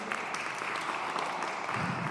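Steady applause from an audience at an arts event at a salon, a dense wash of clapping hands that holds even and moderately loud throughout.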